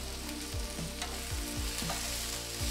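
Brussels sprouts sizzle steadily in a hot, smoky pan, with a few soft scraping thuds as they are tossed around; continuous close frying with no voices.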